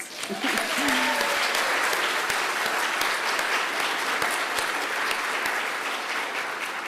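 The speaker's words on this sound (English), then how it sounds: "Let's have a round of applause." An awards ceremony crowd breaks into loud, sustained applause for local sponsor companies, the clapping dense and continuous with a brief voice near the start.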